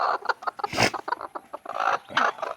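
A native hen with newly hatched chicks clucks close by in a quick string of short, rhythmic calls, with one louder, harsher burst partway through.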